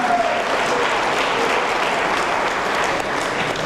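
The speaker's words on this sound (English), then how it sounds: "So let's please give him a round of applause." Wedding audience applauding steadily, a dense even wash of clapping from a crowd that holds at constant loudness throughout without a break.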